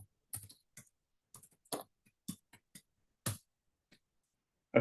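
Sparse, distinct keystrokes tap on a computer keyboard close by, arriving in short irregular bursts with quiet gaps between them and one louder key press at the end.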